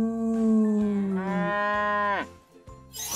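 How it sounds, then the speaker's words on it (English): A cow gives one long, loud moo that rises and then falls away, heard alone and close with no talking. "Mama cow says moo."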